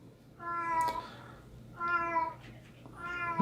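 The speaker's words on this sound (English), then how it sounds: "Oh, that cat. So meowy." A cat meows three times in the background, each meow drawn out and moderately loud, with short pauses between them.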